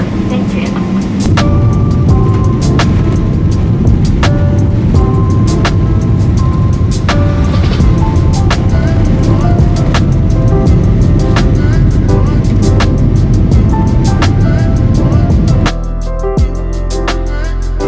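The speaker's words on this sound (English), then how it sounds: "we are now ready for takeoff" A Boeing 777-300ER jet on its takeoff roll, heard from inside the cabin: a loud, steady, deep engine roar fills the whole stretch, with scattered clicks and rattles, and the rumble drops off sharply near the end.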